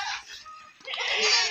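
A goat at a goat farm bleating twice close by, a short cry followed by a longer, louder wavering bleat.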